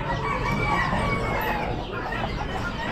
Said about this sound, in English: A little older hen there.